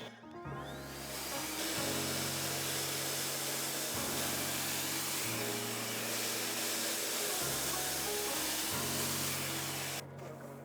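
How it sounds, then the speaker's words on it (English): A hair dryer blows with a steady whooshing roar and humming motor whose pitch shifts a few times, continuous and close, cutting off at the end. "now we're gonna blow dry the top layer"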